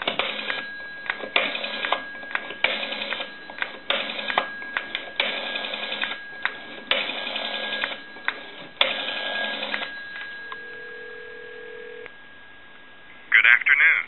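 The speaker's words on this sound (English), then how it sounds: "And we'll dial a time and temp number." A telephone keys in a number, a string of short tone beeps in quick succession, then a ringing signal on the line.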